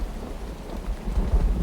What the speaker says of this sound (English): while we wait for the rain to stop